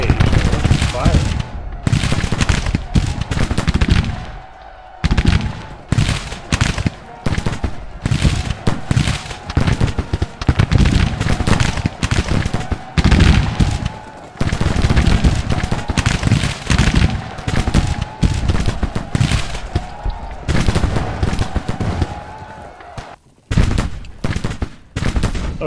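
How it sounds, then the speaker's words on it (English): Dense, continuous musket and artillery fire from a Civil War strategy game rolls on almost without a break, loud and crackling, with brief dips and a voice talking faintly underneath. "Don't want you engaged, I want you firing."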